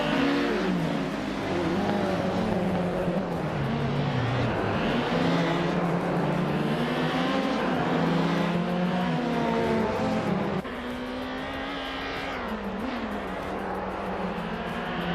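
A classic 1999 Opel Vectra and other race cars roar off the line at the start of a race, engines loud and continuous with overlapping revving pitch sweeps and a brief dip near the end.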